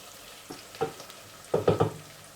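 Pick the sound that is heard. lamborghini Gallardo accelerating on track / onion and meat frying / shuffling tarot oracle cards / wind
onion and meat frying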